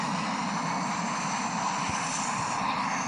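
A Boeing airliner landing in the flight simulator game Infinite Flight, a continuous loud engine roar with rumble, steady from start to finish with no voices.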